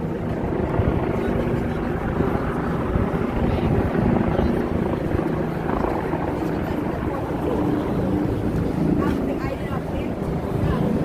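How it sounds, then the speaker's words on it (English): A large helicopter hovering in one spot above the streets of Manhattan's East Village during a street festival, its steady rotor drone loud and continuous over city ambience. "rarely you see a helicopter hanging like this in one spot for so long"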